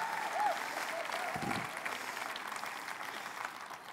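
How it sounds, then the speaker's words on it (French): A church congregation applauds during a French-language sermon, a steady wash of clapping that holds at an even, moderate level throughout, with a brief voice or shout rising above it. "applaudissez avec moi"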